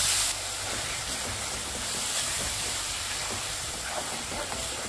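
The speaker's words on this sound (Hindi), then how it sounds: "अब मैं ये टमाटर और लहसुन का पेस्ट इसमें ऐड करूँगी और इसे भी हम हाई फ्लेम पे इसी तरीके से भूनते जाएंगे।" Tomato and garlic paste frying on high flame for a spinach dish, a dense, even hiss of steam and sputter heard close, steady throughout with no voices.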